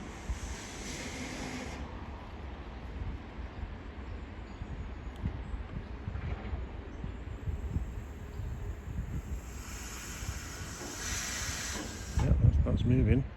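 Air hissing from the brake actuator on a broken-down freight train flatbed wagon, a soft steady hiss at the start and again later, with a low rumbling background and a brief clatter near the end.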